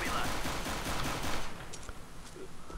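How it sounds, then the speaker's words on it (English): Gunfire in the video game CS:GO, aimed at an explosive barrel, sounds as a dense burst of rapid shots that fades after about a second and a half, with game sound continuing faintly afterward. "Shoot the explosive barrel!"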